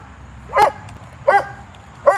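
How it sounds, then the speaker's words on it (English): A dog barks three times, sharp and close, with evenly spaced pauses between barks over a faint background hum. "is barking up a storm"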